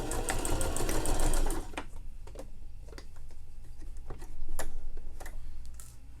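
Close sewing machine running a straight stitch on underwear, a rapid rattling whir in two bursts separated by quieter ticking of the mechanism and fabric handling.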